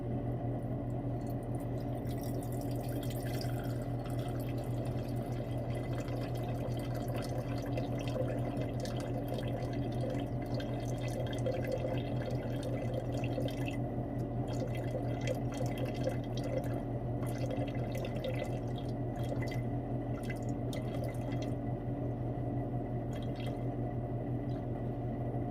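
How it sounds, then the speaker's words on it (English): Liquid is poured off slowly during cleanup of a silver cement lab experiment, making a continuous trickling, dripping splash that holds steady and close for the whole stretch. "So we're just going to slowly start pouring this stuff off."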